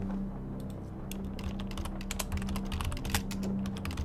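Keyboard typing in the video game Stories Untold: a quick, irregular run of clicking keystrokes over a steady low hum, moderately close, with no voice.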